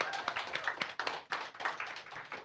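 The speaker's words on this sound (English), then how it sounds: "we'll give a little round of applause for Caleb" A small audience at a songwriters-in-the-round music event claps sparsely, individual hand claps heard close and distinct in an uneven patter that holds steady for a couple of seconds.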